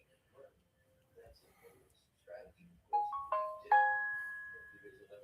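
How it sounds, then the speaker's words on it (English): A phone notification plays a short rising series of bright chime tones, ringing out clearly after some quiet, faint talk and shuffling. "Sorry, that was my phone."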